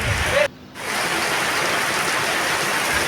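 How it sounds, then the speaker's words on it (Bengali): Steady monsoon rain pours down over a village in Sreepur, Gazipur, Bangladesh, a dense, even hiss with a brief drop-out early on, close and continuous, with no talking. "অনেকদিন পরে আবার বৃষ্টি তবে এবং বর্ষাকাল প্রতিদিনই প্রায় বৃষ্টি হচ্ছে"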